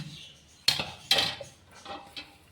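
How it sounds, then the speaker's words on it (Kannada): A cooled milk mixture is poured into a mixer jar, with a few sharp clinks and knocks of metal and cutlery against the jar, close by and spaced apart, followed by softer handling clatter. "ಇದನ್ನು ನಾನಿವಾಗ ಒಂದು ಮಿಕ್ಸಿ ಜಾರಿ ತೊಗೊಂಡು ನೋಡಿರಿ. ಈ ಮಿಕ್ಸಿ ಜಾರಿ ಒಳಗೆ ಹಾಕೋತೀನಿ ನೋಡಿರಿ."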